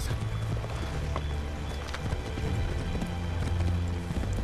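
Horse hooves clip-clop rapidly across the ground in the Assassin's Creed 3 video game, a dense, steady galloping patter at close range over low ambient game sound.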